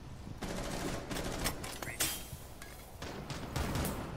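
Rainbow Six Siege gunfire: rapid bursts and sharp single shots crackle close and loud, overlapping in quick succession while players shout over the firing.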